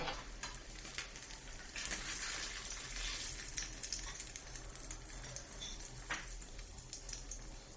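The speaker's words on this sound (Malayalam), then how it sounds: "ഹൈ ഫ്ലെയിമിൽ ഇട്ടിട്ട് മീൻ പൊരിച്ചെടുക്കുമ്പോഴേ അപ്പൊ ചെറിയ തീയിൽ ഇരുന്നിട്ടാവട്ടെ" Pomfret fish coated in masala fries in oil, giving a soft, continuous sizzle with light crackling and occasional sharper pops, faint and steady, with no voices.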